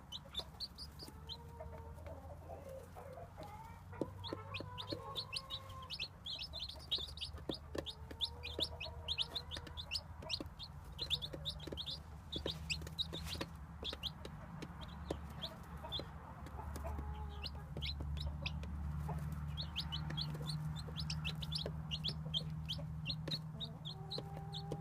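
Newly hatched chicks cheep in rapid, high, repeated peeps throughout, with deeper clucking of adult chickens and a low steady hum underneath, all fairly quiet.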